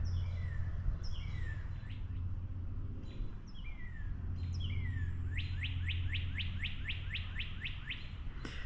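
Northern cardinal, a native red crested finch, singing in a park: repeated descending slurred whistles followed by a rapid run of rising chips, clear over a low steady background rumble of traffic.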